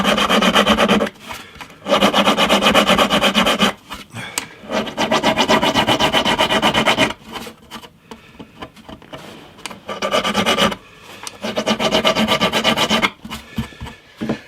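A metal file rasps along the frets of a 50-year-old acoustic guitar to take off a burr during fret leveling on a bowed neck. Long, loud, close back-and-forth strokes come in runs separated by short pauses.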